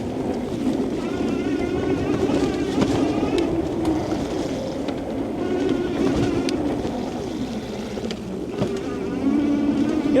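A Hovsco GTRS electric bike with a 750-watt motor riding through sand, a continuous rough rumble of tires churning loose ground mixed with heavy wind buffeting the microphone throughout.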